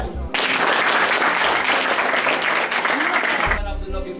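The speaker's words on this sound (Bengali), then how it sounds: "ওদের সবার জন্য একটা জোরে হাততালি" Loud applause from an audience at a 2009 Samakal Suhrid gathering, a dense burst of many hands clapping that starts abruptly and runs steadily for about three seconds before cutting off, with faint voices around it.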